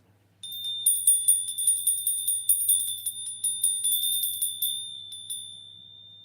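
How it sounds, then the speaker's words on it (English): Small high-pitched bells ring in a quick, steady series of bright strikes for about five seconds, then fade out with one last ring, clear and fairly close with no talking. "The dog was going crazy over the bells."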